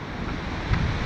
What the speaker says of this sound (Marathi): आता आलो आहे भीमकाय धबधबा